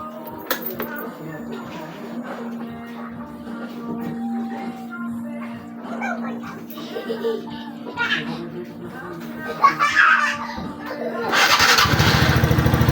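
A TVS Ntorq 125 scooter after RPM tuning sits at a low steady idle hum under nearby chatter and clatter, then its engine revs up loudly at the end.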